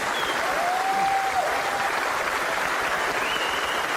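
Studio audience applause on a car show set, steady dense clapping filling the whole stretch at a moderate level, with a faint voice briefly audible over it.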